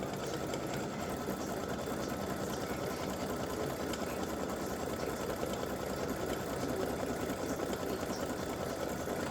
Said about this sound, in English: it's just going to stitch those satin stitches along the sides of the pants